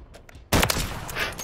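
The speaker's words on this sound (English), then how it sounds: "I sniped a guy." A single loud, close sniper rifle shot in a battle royale video game cracks out after a moment of quieter game noise, and its boom rolls on briefly afterward.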